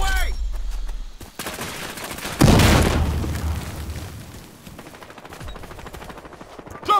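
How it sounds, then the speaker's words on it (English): Close, loud gunfire bursts in the Battlefield Hardline video game, with a heavy grenade explosion about midway, followed by continuing rapid shots and pops. "Grenade on the way!"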